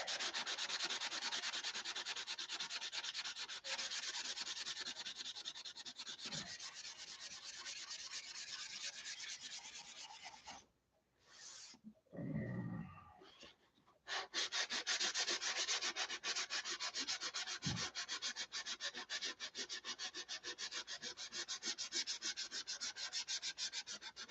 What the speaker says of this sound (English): Yeah, I hate sanding.